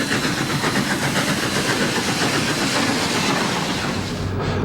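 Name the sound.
steam locomotives pushing White Pass & Yukon rotary snow plow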